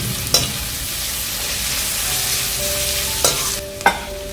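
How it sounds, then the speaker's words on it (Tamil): Onion, green chillies and curry leaves fry in an oiled pan with a loud, steady sizzle, broken by a few sharp spatula knocks against the pan. "இது நல்லா வதக்கிக்குவோம்."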